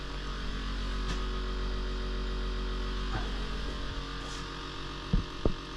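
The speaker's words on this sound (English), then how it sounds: "Switch the vac pump on." A vacuum pump runs steadily on a cylinder head flow bench for a Formula Ford crossflow head, giving a constant low mechanical hum with faint higher whine, broken by two soft knocks near the end.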